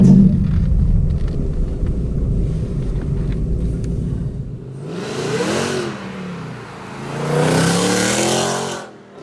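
A supercharged 2018 Ford Mustang with a Stage 2 Whipple supercharger and 10R80 transmission revs and roars as it accelerates hard, swelling in two loud surges toward the end.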